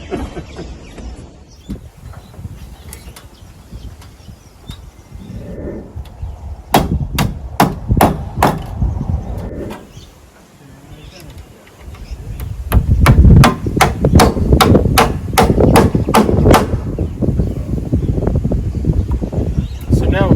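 Nails hammered into wooden decking on a building site: a quick run of sharp, evenly spaced hammer blows, a pause, then a longer rapid series, close and loud with outdoor wind and some background talk.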